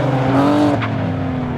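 BTRDA Clubmans rallycross cars racing at Blyton, coming onto the start straight toward the hairpin: a loud, close engine drone with rising pitch and a brief tire scrub, lasting under two seconds.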